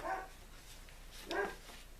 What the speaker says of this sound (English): I guess I need to pause and find out why the dog is barking.